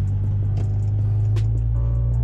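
A silver Nissan 350Z with a single exhaust idles and begins pulling away, a deep steady rumble close by with small clicks and knocks over it.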